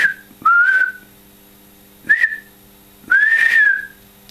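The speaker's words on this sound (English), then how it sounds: "So I'm whistling near the microphone and it is on" A person whistles close to a microphone for an Arduino sound-sensing setup: three or four clear, loud, short rising-and-falling whistles with brief silent gaps between them.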